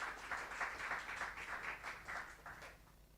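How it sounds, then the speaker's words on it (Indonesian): A church congregation claps for Jesus during a sermon, a soft, fairly distant burst of rhythmic clapping that keeps a steady beat before tapering off near the end. "Tepuk tangan dong buat Tuhan Yesus."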